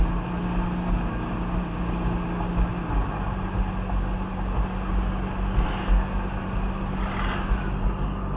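A Ferrari 458 Italia engine hums steadily on a track, rising gently in pitch as it accelerates, with a continuous close drone and a few brief swells.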